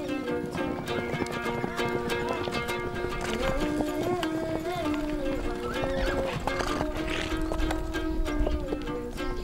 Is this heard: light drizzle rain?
no